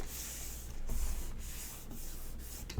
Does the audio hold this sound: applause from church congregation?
no